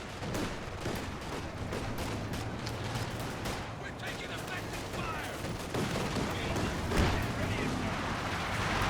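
Pack Howitzer artillery firing in a strategy war game, repeated booms and gunfire running through dense battle noise, with a commentator talking over it.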